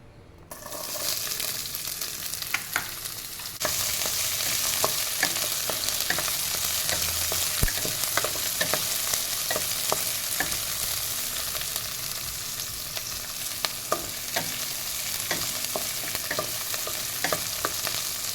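Steady, loud sizzling of onion and green chili frying with cumin in a hot pan, with occasional crackles and pops, close up and continuous.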